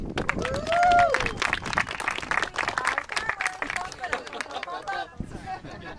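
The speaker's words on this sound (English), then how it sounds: "Let's give a round of applause for farmers." Round of applause for farmers at a housewarming gathering, brisk clapping from a small crowd mixed with cheers, chatter and voices talking over it, fading toward the end.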